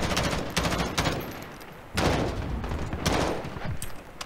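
Rapid bursts of gunfire ring out in an esports match of a tactical shooter video game, loud clattering volleys starting and stopping several times, with no talk over them.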